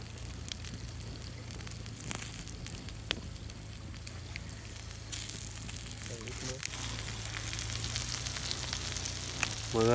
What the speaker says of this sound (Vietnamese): Tôm lên chảo đá.